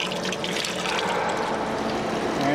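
Liquid pours steadily out of a Vincent screw press dewatering spent distillers' grain, a continuous close splashing gush of water with no break and no talk.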